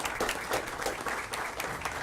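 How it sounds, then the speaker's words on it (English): Audience at a school board meeting applauding a student, a dense patter of many hands clapping at once, soft and somewhat distant, with no talk over it. "So let's give her a round of applause."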